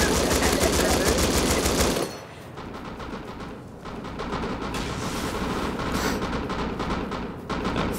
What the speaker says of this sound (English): I love how like three people are M249ing it